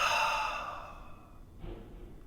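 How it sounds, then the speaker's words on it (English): One deep, breathy exhale during a yoga breathing exercise, close and soft, fading out over about a second, followed by a faint short intake of breath. "Let's breathe really deep 3 times."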